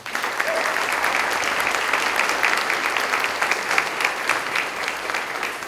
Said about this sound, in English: And that deserves a round of applause right there.